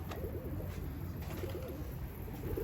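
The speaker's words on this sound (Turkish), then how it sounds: "Evet kuşlar omuzlarımda geziyor arkadaşlar." Pigeons walking on a person's shoulders give soft, repeated cooing calls, close by but quiet over a steady low background hum.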